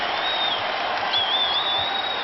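Crowd at an NBA playoff basketball game between the Knicks and Celtics in an arena, a steady broad roar of cheering and applause, loud and continuous without a break.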